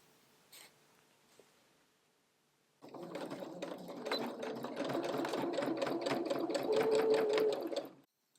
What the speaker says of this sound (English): then you can edge stitch the opening of the sleeve closed